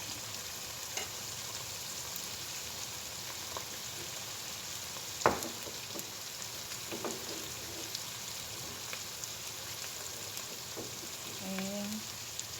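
Potato and carrot sizzle quietly in a pan, with a few scattered scrapes and one sharp clack from stirring, close but faint and with no talk.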